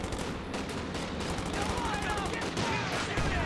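Battle gunfire from the strategy game Company of Heroes 2, with rapid bursts of small-arms and machine-gun fire crackling steadily over a busy, dense game soundscape.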